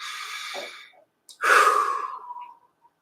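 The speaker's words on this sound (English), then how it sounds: "we're just gonna take a few deep breaths to get started." Two deep breaths, a slow breath in followed by a long exhale, then another sharp inhale and a drawn-out breath out, close and clear with a brief silence between.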